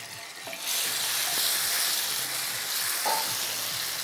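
Mustard seeds and cumin sizzling in hot oil for a tempering, a steady bright frying hiss that swells after a brief stir, with faint pops and spatters and no voices.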